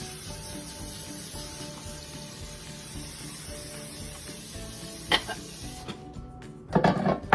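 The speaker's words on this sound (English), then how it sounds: "I'm going to take my fluted cake pan, spray it with Baker's Joy." Baker's Joy baking spray is sprayed into a fluted cake pan, giving short hissing bursts near the end of an otherwise quiet kitchen moment, close and fairly loud.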